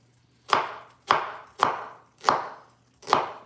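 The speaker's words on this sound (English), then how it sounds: "now we're gonna cut up these this onion here" A knife chops onion and garlic on a cutting board, five sharp, evenly spaced thuds about half a second apart, close and clear with no talk.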